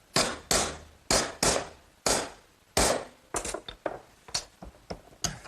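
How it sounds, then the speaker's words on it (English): A hardwood block taps a bent metal corner in a woodworking shop, about a dozen sharp, close knocks in an uneven rhythm, some single and some in quick clusters, with no talk. "then use a block of hardwood to sharpen up the corner"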